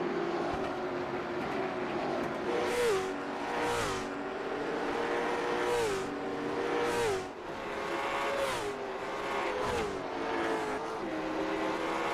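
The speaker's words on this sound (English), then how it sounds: "You see another car's come onto the track." Race car engine on track in a racing video game, DC Designs LMSC series at Kern, droning steadily with repeated revving gear changes and whooshes of cars passing, fairly close and continuous.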